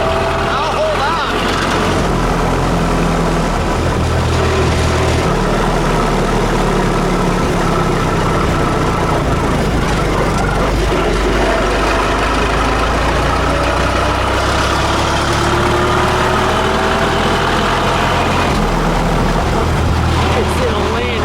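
The engine of a 1907 Renault Type AI Vanderbilt Racer runs loud and close throughout, a dense rumbling drone with shifting pitch as it drives, and voices come through over it.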